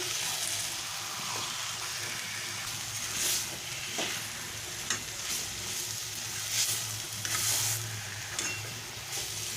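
Vegetarian taro leaf curry with coconut (kochur shak) being stirred slowly in a pan as it reduces, soft scraping strokes at irregular intervals over a constant low bubbling sizzle and faint background hum, with no voices.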